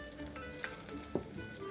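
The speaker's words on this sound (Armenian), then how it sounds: "Լավ տապակվեց արդեն սոխարածը" Chopped onions fry quietly in a pan for a spring-herb soup, giving a soft, steady sizzle broken by a couple of sharper pops.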